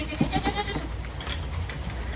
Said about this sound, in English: You got some eager to eat goats,